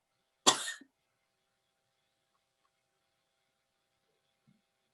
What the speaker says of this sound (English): give me 3 big coughs